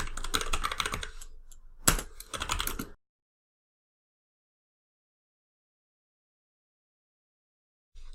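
Rapid clattering keystrokes on a computer keyboard as commands are entered, close and fairly quiet, in two bursts split by a short pause with one louder key press, then silence.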